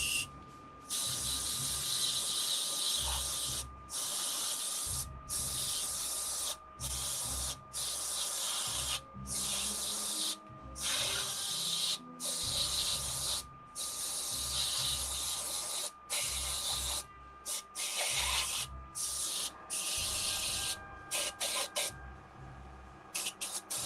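An airbrush sprays a black base coat onto an action figure, giving a close, steady hiss in repeated bursts with short breaks, and a faint tonal whine beneath it.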